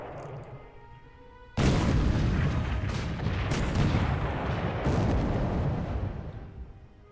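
Heavy naval gunfire in a Pacific war game as 8-inch shells strike a destroyer: a quiet lull breaks into a sudden loud, sustained roar of booming shell blasts and explosions that rumbles on for several seconds before slowly fading.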